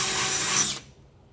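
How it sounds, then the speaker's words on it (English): A power drill with a 3/8 inch bit whines steadily at high pitch, close and loud, drilling for a 1970 VW Bus sway bar, then cuts off abruptly partway through, leaving near silence. "now we're drilling with the 3/8 inch."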